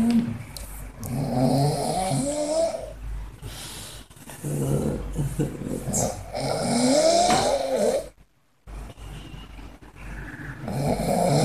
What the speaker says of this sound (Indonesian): lagi yang ngorok